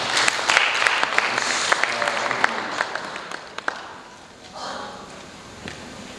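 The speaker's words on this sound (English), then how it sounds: "So can I request you to give a big clap to these farmers?" Audience applause for farmers at a 2023 stakeholders event, a dense burst of clapping that fades out after about four seconds, followed by a faint voice.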